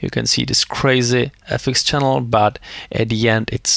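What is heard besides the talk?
No everyday noises stand out.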